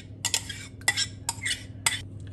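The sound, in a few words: stirring whisked yogurt into beetroot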